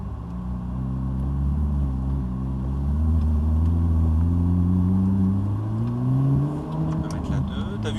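A Ferrari 458 Italia with a 570 hp engine pulls hard around the Laquais race circuit, its loud, close engine note climbing steadily through the gears without letting off the throttle, with voices talking over it.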